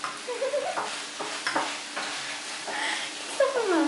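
Food sizzles in a pan while being stirred, a soft continuous frying hiss with scraping stirs, brief squeaks and a few faint clinks, and no speech.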